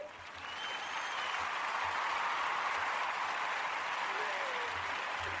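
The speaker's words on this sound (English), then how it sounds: "So we'll give a round of applause for Mr. Ben Honken." An audience gives a round of applause to welcome a guest speaker, the owner of a tutoring company, with sustained, even clapping that rises quickly and holds steady to the end.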